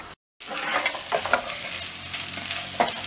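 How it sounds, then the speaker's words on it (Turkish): Döner meat reheating in a pan gives a steady, close sizzle, with stirring scrapes and occasional louder crackles running throughout after a brief silence at the start. "Dönerlerimizi ısıtıyoruz arkadaşlar."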